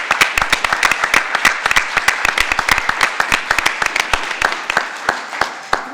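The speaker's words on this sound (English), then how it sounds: "So I'd like to give her a round of applause before I give her a brief introduction." An audience applauds the Attorney General at a Pathways to Justice event, with steady, distinct handclaps from a moderate crowd that continue evenly throughout.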